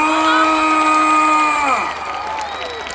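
A concert crowd roars and cheers at an outdoor stage show during a music festival, with sustained whistling tones over a dense wall of voices that eases off after a couple of seconds.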